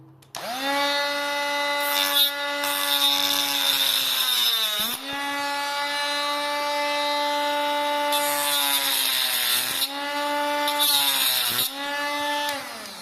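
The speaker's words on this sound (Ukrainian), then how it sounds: "у мене є болгарка, вона мені вже во всьому допомагає" An angle grinder whines at a high steady pitch while cutting metal from a power supply unit, its tone sagging briefly under load several times, close and loud throughout.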